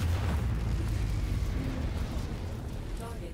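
A target is blown apart in the mech combat game MechWarrior 5, giving a deep, rumbling explosion that roars loud at first and slowly fades out.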